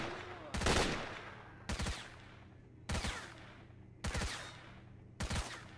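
Gunfire in S.T.A.L.K.E.R.: Shadow of Chernobyl at a bandit base: one loud burst, then four short double-shot bursts spaced about a second apart, each trailing into a reverberant decay over a low ambient hum.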